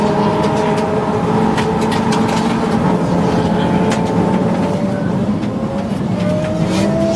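An Audi RS3 race car engine roars loud and close during an endurance race at Snetterton, with the tone climbing steadily through the revs and shifting pitch at gear changes.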